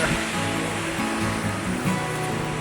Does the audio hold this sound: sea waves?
yes